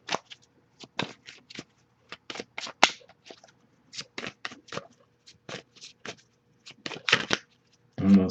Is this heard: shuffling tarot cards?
yes